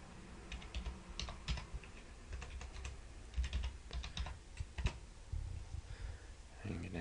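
Typing on a computer keyboard during AutoCAD work, a quiet run of close key taps in short bursts.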